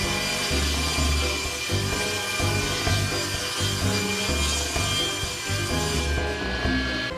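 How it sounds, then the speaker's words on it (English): A power saw rips a wood sheet into slats with a steady, loud cutting roar and rhythmic low pulses throughout. "Next, I can cut the other sheet into strips."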